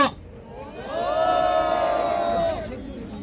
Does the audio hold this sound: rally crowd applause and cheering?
yes